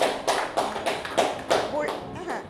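Hands clap six times in an even rhythm, close by and crisp, during a listening exercise at a school for hearing-impaired children. A voice can be heard around the claps.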